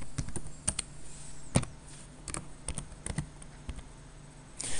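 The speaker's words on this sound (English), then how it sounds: "you'll notice as I'm typing here" Typing on a computer keyboard while building a PowerPoint 2010 slide outline, a quiet irregular run of close key clicks and taps with brief pauses between bursts.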